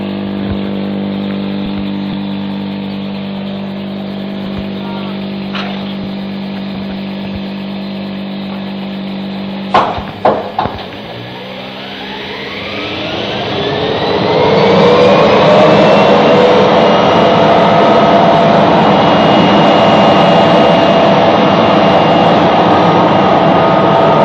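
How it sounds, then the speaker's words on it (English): A BR Class 74 electro-diesel locomotive hums steadily, then a few loud clunks, then the booster spins up with a rising whine into a sustained loud roar as it departs. "We hear the loco starting up, then the booster comes to life before the loco moves off."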